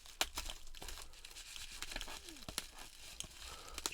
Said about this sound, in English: the cards, nicely wrapped up in bubble wrap